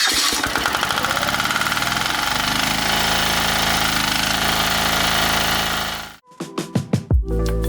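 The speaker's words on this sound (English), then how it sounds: "Diesel engines are typically louder though, with it being a single cylinder engine, and there's just no escaping from the noise" A Yanmar single-cylinder diesel engine on a pressure washer runs loud and close with a hard, rapid knocking chug, then cuts out abruptly and gives a few heavy decaying thumps as it shudders to a stop.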